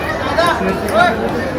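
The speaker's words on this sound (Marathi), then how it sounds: "समोर एवढी गर्दी आहे की कोणी जाऊच नाही देत आहे" Dense crowd chatter from pilgrims packed at the Renuka Mata temple on Mahurgad, an overlapping babble of many voices close around.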